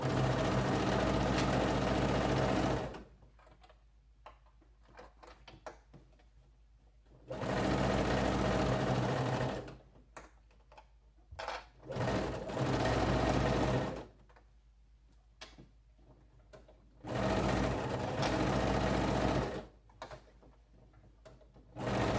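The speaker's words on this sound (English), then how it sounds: "I'm just going to sew all the way around that crotch curve now" A sewing machine stitches a half-inch crotch curve seam on pajama bottoms, running in several loud, steady bursts of a few seconds each, separated by short stops and brief stutters.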